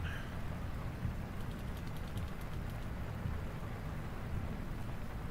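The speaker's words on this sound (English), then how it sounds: "how long is the rain supposed to last?" Steady rain in Farming Simulator 25 hissing as a continuous, even wash of noise with a low rumble beneath, no talking over it.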